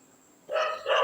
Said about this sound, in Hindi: इतने ज़्यादा वो पगला गया है कि भौंकना ही नहीं बंद कर रहा है